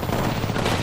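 Rapid video game gunfire crackles densely through a short firefight burst, loud and continuous with no pause.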